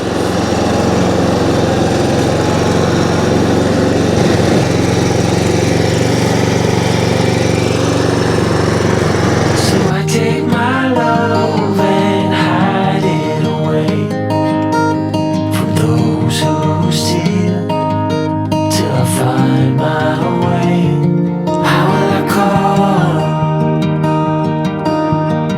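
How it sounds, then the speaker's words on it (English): A lawn scarifier runs steadily as its blades cut into the soil of a lawn beside bricks and slabs, a loud continuous engine drone that shifts to a rattling, grinding tone partway through. "the blades are cutting into the soil, making sure the right hand wheels are not touching the bricks or the slabs"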